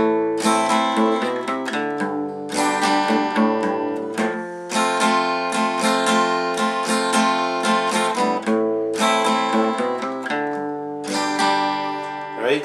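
Acoustic guitar strumming the chords of a song in a steady up-and-down rhythm, close and full, with brief pauses between chord changes and no talking.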